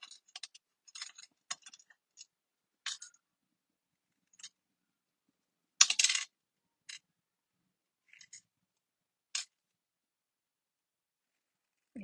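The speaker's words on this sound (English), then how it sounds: "I'm just going to hand cut it out real close" Scissors snip paper by hand in a quiet room, giving sparse, faint crisp cuts at irregular intervals, with one louder slicing burst near the middle.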